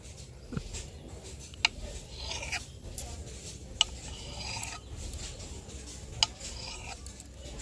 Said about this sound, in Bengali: এখানে একটা ছুরি নিয়ে নিয়েছি সোপ বেসটাকে ছোটো ছোটো টুকরো করে নেবো